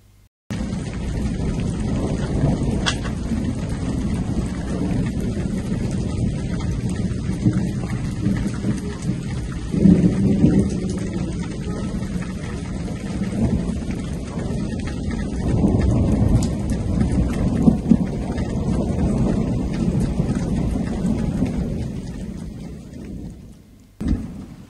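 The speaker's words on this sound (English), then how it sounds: "all of a sudden, the amazing storms begin" Heavy rain pours steadily during an early-season thunderstorm, a dense continuous roar with deep thunder rumbles swelling underneath, loud and close throughout with no voices.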